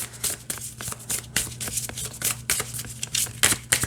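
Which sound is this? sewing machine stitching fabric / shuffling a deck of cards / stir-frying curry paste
shuffling a deck of cards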